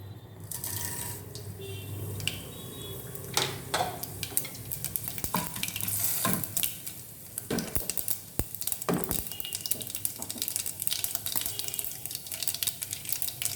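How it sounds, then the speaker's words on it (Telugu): Seasoning seeds crackle and sizzle in hot oil while tempering for sago upma, with sharp pops and spits scattered over a steady frying hiss and occasional stirring. "ఇప్పుడు ముందుగా పోపు గింజలు వేస్తున్నాం."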